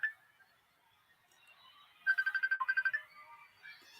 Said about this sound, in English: We got a phone call here.